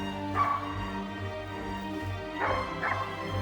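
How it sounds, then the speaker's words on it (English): Hunting dogs bark and yip at a distance during a driven boar hunt in Hungary, a few short bursts spaced apart over a quiet outdoor background. "you can hear the dogs"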